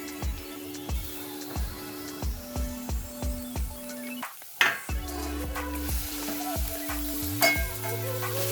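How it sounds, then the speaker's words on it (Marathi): Soya chunks stir-fried quickly in a pan: fast regular scrapes and knocks of a spatula against metal over a low sizzle, with a brief lull and a louder clatter midway, close and without talk. "आणि हे असं आपल्याला सगळं परतवून घ्यायचं हे फास्टमध्ये परतवून घेतो"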